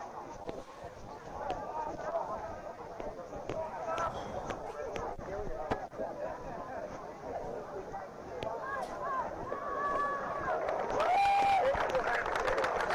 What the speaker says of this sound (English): So as the applause goes up